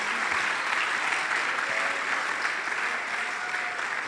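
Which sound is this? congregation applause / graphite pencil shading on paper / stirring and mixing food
congregation applause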